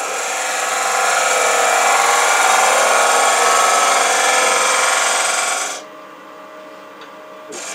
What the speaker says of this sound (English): I'm going to use this negative rake square edge scraper, Cindy Droza style